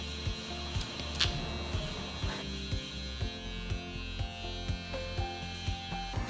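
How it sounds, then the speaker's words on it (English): Balding clippers buzz through a mid skin fade haircut with a steady close electric hum, broken by regular soft ticks as the blades move across the head. "So I'm going to use my balding clippers."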